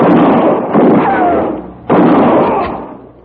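Two loud, close gunshot-like blasts from a Derringer pistol in an old Western drama, each a sharp bang followed by a decaying boom, about a second apart, with no talk.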